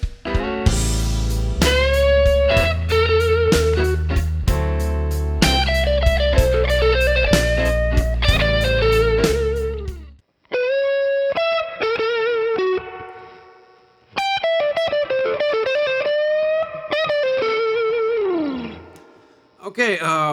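Distorted electric guitar on a '79 Strat neck pickup, played with a Dunlop Jazz 3 pick, works through a slow 12/8 blues lick in A, with sustained bent and wailing notes in loud phrases separated by short silences.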